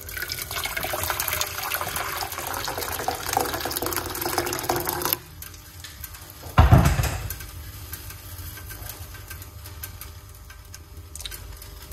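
Hot water poured into a medium-size pot, a brief close splash and gurgle of liquid landing in metal after steady running-water hiss, with no talking.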